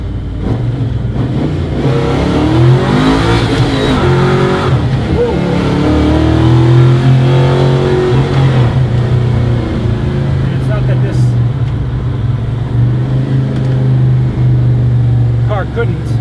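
A car with a small-block Chevy 400 block, 283 crank and Tremec TKX manual gearbox, making 512 horsepower, gives a loud steady engine drone with rising and falling pitch as it accelerates, and someone talks over it.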